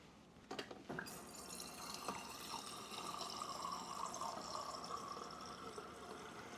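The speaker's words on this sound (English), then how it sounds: "So I'm going to fill it with water up to the nozzle" Water runs into the base of a stovetop Cuban coffee pot, a couple of clinks and then a steady faint trickling pour close by.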